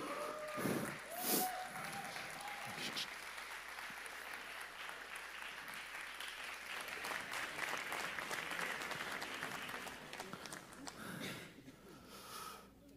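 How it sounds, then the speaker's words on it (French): A church congregation at a sermon service applauds a couple for a long stretch, with continuous, fairly distant clapping and a brief voice near the start. "On va continuer d'applaudir Paul et Christine"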